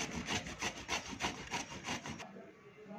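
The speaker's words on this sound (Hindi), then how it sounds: "ये देखिए लौकी मैंने अच्छे से घिस लिया है, कद्दूकस कर लिया है।" A half bottle gourd (lauki), washed and peeled, being rubbed against a kitchen grater in quick regular strokes, about ten rasping scrapes close up, stopping sharply near the end.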